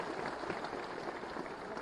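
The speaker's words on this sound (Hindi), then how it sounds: "ताली बजाएं।" Audience applause for the Chief Minister at an appointment-letter ceremony for newly recruited irrigation department assistant engineers, a dense, steady wash of clapping from a crowd, moderately distant and even throughout.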